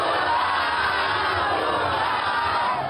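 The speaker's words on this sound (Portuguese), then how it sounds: "Em Belo Horizonte, a multidão comemorou com bandeiras e fogos de artifício." A large street crowd in Belo Horizonte, Brazil celebrates an election victory, a dense continuous roar of shouting and cheering voices at close range throughout.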